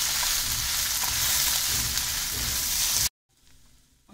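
Spiced vegetable sandwich filling being mixed in a hot pan, a steady dense sizzle with soft stirring scrapes, loud and close, cutting off abruptly to near silence before a faint return.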